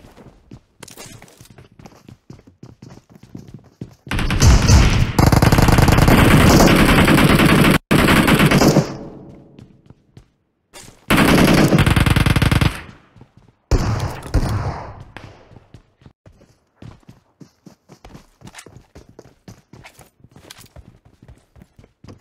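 Gunfire from a shotgun in the BGMI mobile battle royale game comes in loud, dense bursts, with a long barrage, a shorter one, then a brief volley, separated by quieter stretches of faint ticking.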